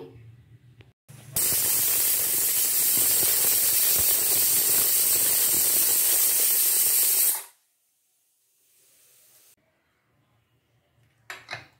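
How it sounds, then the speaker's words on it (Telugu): A pressure cooker of pulagam rice and lentils on a medium flame gives a loud, steady whistle with a hissing rush of steam for about six seconds, then cuts off sharply, leaving a quiet background with faint clicks. "మీడియం ఫ్లేమ్లో ఒక 3 విజిల్స్ రానిస్తే మెత్తగా ఉడికిపోద్ది."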